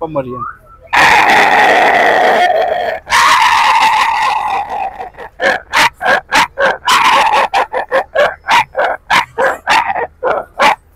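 A man mimics a small Pomeranian dog, first with long continuous yapping and whining, then a rapid run of short, sharp high-pitched barks, loud and close with no other sound.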